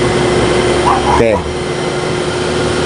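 Half-horsepower window-type air conditioner under repair for poor cooling, with its compressor kicking in around the midpoint and then humming steadily, a loud continuous mechanical drone with a faint voice briefly audible.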